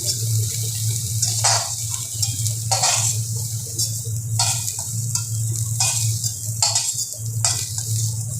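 Cauliflower fries in a pan in a home kitchen, a steady close sizzle with a low hum beneath and periodic clinks and scrapes of stirring at regular intervals.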